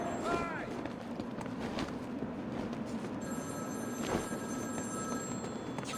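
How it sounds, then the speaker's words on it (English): A telephone rings in the game Batman: Arkham City, faint repeated electronic trills heard over a low, busy ambient backdrop with scattered footsteps-like knocks. "Answer my phone and answer it quick, Batman."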